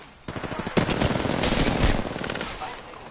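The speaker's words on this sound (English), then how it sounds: "They're shooting at me." Automatic gunfire in a video game rattles out in rapid, loud bursts. The dense volley rises sharply and then trails off.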